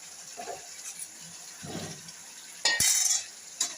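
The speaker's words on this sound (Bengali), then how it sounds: "আলু দিয়ে ভালো করে কষানোর পর নুন আর অল্প জল দিয়েছি" Meat and potatoes stir-fried in a pot give soft scraping stirs and a low sizzle, then a sharper metallic clatter and scrape near the end.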